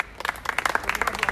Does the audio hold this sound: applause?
yes